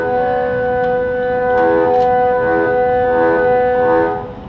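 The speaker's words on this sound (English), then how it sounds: "I can block some of the notes with this sound" A harmonica plays a drawn chord using tongue blocking, a sustained reedy multi-note sound that swells and pulses rhythmically as the notes are blocked and released, loud and close.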